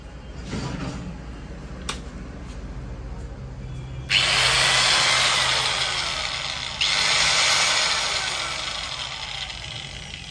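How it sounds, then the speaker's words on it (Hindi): A yellow angle grinder switches on after a few quiet seconds and runs with a loud, high, steady whine close by. It surges once briefly partway through. "असं सुंदरसं येलो कलरचं ग्राइंडर मशीन आहे, हे तुम्हाला मी लावून दाखवतो"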